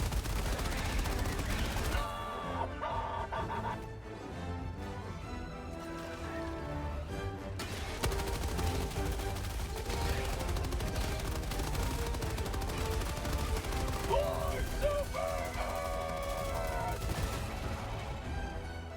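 A machine gun fires in long sustained bursts in Helldivers 2, dense rapid shots mixed with explosions and game music, continuous and loud throughout.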